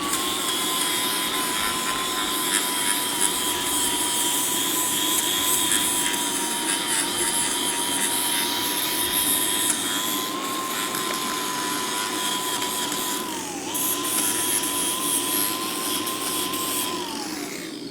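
A flap disc on an angle grinder smooths and rounds a warm hand-forged steel dragon head, a loud, continuous high-pitched whine with steady grinding hiss and slight dips in pitch as pressure changes.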